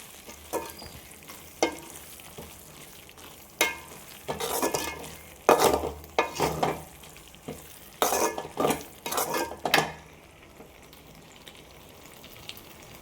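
A spoon scrapes and stirs roasted fenugreek-cumin powder into wedding-style citron pickle in a pan, with irregular bursts of scraping and mixing separated by quiet pauses, close by and without talk.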